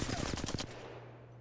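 Rapid automatic gunfire in Apex Legends, a fast burst of about ten sharp shots over half a second, loud and close, then it stops and only a steady low hum remains.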